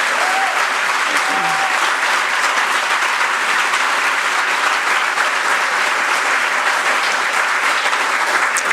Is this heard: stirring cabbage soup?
no